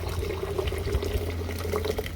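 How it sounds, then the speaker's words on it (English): Boiling hot water poured over recovered silver powder from IC chips to wash it, a steady close liquid pouring and splashing with a low continuous rush throughout. "Now I'm going to give it a wash, just boiling hot water."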